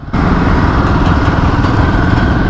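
A Royal Enfield Himalayan 450 motorcycle fitted with a Way2speed high-performance air filter pulls hard in third gear at low revs, its engine a loud, steady, dense drone that fills the whole stretch close by.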